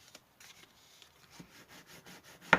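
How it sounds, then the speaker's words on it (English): Burnishing tool rubbed along the fold lines of a handmade twist-and-pop anniversary card, giving soft, close dry scraping strokes in short passes, ending with one louder rub. "give those fold lines a good burnish because we want them to lie nice and flat"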